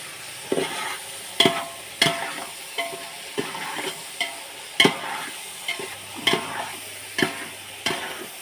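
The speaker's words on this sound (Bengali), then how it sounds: "কাজু কিশমিশগুলো একটু ভালো করে ফ্রাই করে নিতে হবে" Cashews and raisins frying for pulao, with a spatula striking and scraping the pan in a regular rhythm of sharp knocks above a steady sizzle, close and fairly loud.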